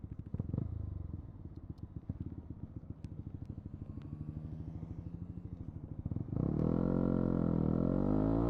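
A motorcycle engine rumbles nearby with a steady idling chug, then swells into a louder, rising roar as the bike passes close by.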